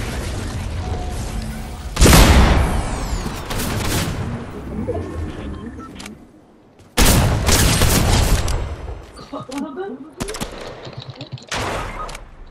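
Rapid bursts of gunfire ring out in a Fortnite match, with two or three loud volleys separated by quieter gaps that carry mechanical clicks and small effects.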